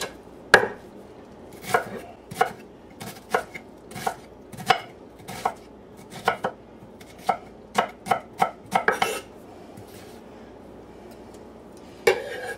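Knife roughly chopping vegetables on a cutting board, a series of sharp close thuds in irregular bursts, quickening to a rapid cluster near the middle, then a pause and one last chop.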